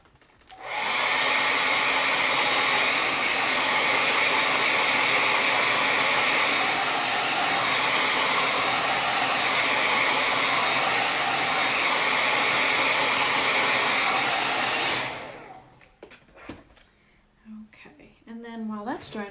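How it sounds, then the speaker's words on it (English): Hair dryer blowing steadily to dry acrylic paint on a canvas, loud and continuous for about fifteen seconds, then shutting off as a voice speaks. "we're going to have to use the blow dryer"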